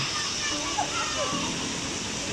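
A stream and small waterfall on a nature trail pour steadily, with constant broadband rushing water close by and no break, a brief faint voice over it.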